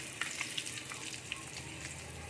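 Fish fries in a pan with a soft, steady sizzle, a faint continuous hiss broken by a few small crisp pops and spits.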